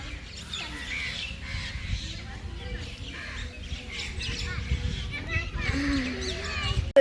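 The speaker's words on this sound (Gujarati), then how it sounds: "જો કેટલા મસ્ત પક્ષી ઉડે." Birds call with scattered squawks and chirps outdoors near the Karjan river at sunset, close to a bridge, over steady background noise while people talk throughout.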